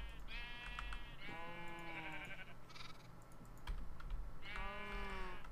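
Sheep bleating in a modded video game with farm helper mods, several repeated close bleats over a soft steady background, with keyboard typing clicks in between.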